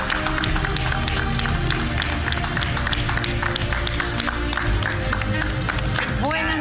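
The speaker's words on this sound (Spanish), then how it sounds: "un aplauso para ellos." Audience applause at a live show as a guest walks onstage, steady dense clapping mixed with crowd noise and background music throughout.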